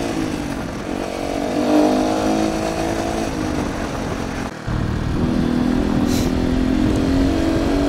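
A Beta RR trial motorcycle revs loud and close as it climbs a slope, its engine note holding steady and rising, cutting briefly midway before picking straight back up, with no voices.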